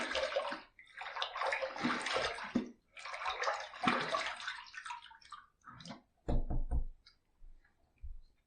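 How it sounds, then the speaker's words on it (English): Running water from a tap splashes and gushes for a shaving razor rinse after the first pass, in several close bursts separated by pauses, ending in short knocks and drips. "First pass done, let's rinse."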